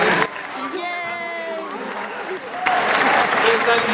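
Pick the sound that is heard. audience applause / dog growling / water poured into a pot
audience applause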